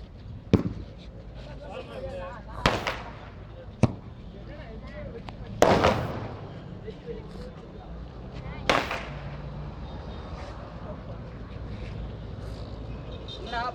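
Several sharp Diwali firecracker bangs go off at irregular intervals, about four loud cracks over steady background noise with people talking faintly, in Chennai.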